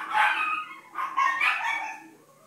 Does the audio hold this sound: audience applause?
no